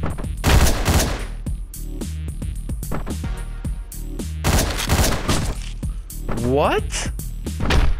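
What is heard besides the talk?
gunfire in the video game Hotline Miami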